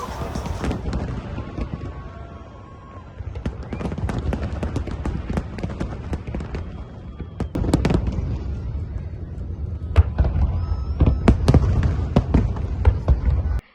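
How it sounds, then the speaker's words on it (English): Macy's Fourth of July fireworks bursting over the Hudson River, a long run of sharp booms and crackling pops, some close and loud, others overlapping into a dense rumble, growing busier toward the end. "Macy's department store chain held its 48th annual 4th of July fireworks along the Hudson River for the first time in a decade"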